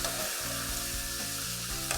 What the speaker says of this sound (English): Stir this in and saute this for another 5 minutes.